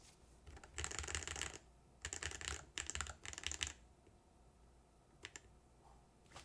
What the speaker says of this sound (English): Okay, so it recognizes what I'm typing here.